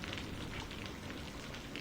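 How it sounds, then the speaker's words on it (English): Rain falls steadily in a soft, close hiss of many drops pattering on surfaces, constant and quiet with no voices. "The only sound was the rain"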